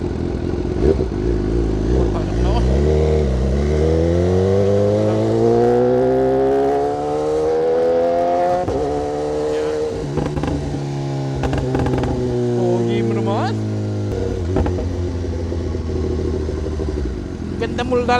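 A motorcycle engine revs up and settles repeatedly, its pitch climbing in long sweeps and then dropping back to a rough idle. Loud and close, with clattering, people talking and shouting over it.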